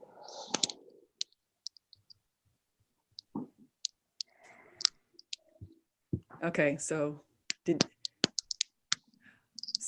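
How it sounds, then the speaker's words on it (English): Scattered sharp clicks of keyboard typing in irregular bursts, with a person speaking briefly in the middle. "There is that clicking noise. Someone's still typing."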